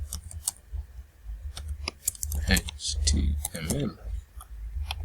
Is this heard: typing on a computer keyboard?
yes